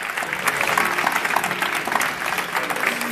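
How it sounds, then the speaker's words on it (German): Audience at a German panel talk applauding on stage, dense steady clapping filling the hall at moderate volume with no break. "Vielen Dank für den Applaus."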